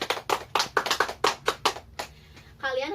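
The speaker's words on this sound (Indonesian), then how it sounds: "Tepuk tangan untuk Vanessa." A short burst of classroom clapping for a student, about a dozen sharp, fairly even claps from a small group, close and moderately loud, fading out before a voice starts speaking.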